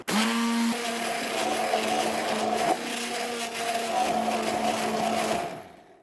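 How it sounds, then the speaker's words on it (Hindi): A blender grinds raw mango chutney with garlic, ginger, lemon juice, salt and cumin powder, giving a loud, steady motorised whir that runs for several seconds on its own before cutting off near the end. "यहाँ पर ब्लेंडर को चलाते हुए मज़ेदार सी चटनी तैयार करेंगे।"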